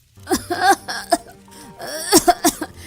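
Several harsh coughs from smoke burst out in irregular clusters, close and fairly loud, with short pauses between fits, in a cartoon.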